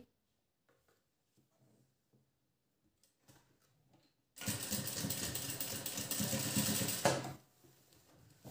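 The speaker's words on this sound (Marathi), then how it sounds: "पुन्हा आपण डबल शिलाई घेऊया।" Quiet faint handling noises give way to a sewing machine running a blouse seam, a loud, close mechanical whir lasting about three seconds before stopping, then soft rustling.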